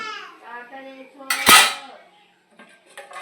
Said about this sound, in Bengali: এই ডিশটা ঢেকে দেবো